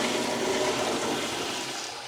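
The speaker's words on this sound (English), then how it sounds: "give it a good little flush" A toilet flushes during a bathroom cleaning, a steady broadband rush of water that holds for about two seconds and begins to taper off at the end, close by and with no talk.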